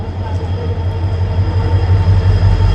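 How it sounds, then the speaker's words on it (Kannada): A passenger train stands at a station, giving off a close, steady low rumble and hum with no clear talk over it. "ಇದೇ ನಮ್ಮ ಟ್ರೈನು"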